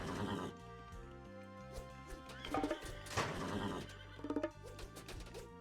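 A horse neighs and whinnies in an Age of Mythology-style strategy game with horse archers, a couple of distinct whinnies rising over a steady bed of game music and ambience.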